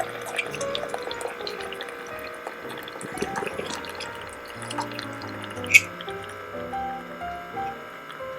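Keurig single-cup coffee maker dripping coffee into a cup, soft irregular drips and trickles over a faint background hum, with one sharper drip standing out.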